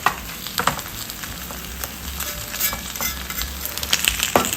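Steady sizzling and crackling of potato, sweet potato and cheese frying in olive oil in a covered pan over low heat, continuous and fairly close, with a few small pops and clicks.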